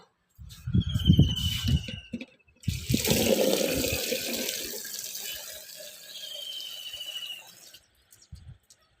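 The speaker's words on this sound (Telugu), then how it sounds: "బాగా చేయి తడుక్కొని వాటర్లో ముంచుకొని ఇలా తీసుకొని" Water splashes and runs as a hand dips and sloshes in a basin of water while making pumpkin vadiyalu, with a brief faint squeak over the flow.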